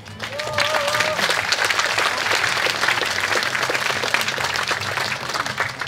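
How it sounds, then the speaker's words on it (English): Sustained applause and clapping from a crowd at an activism event, dense and steady throughout, with a few tonal voice-like whoops rising above the clatter near the start. "It's definitely a cause to clap."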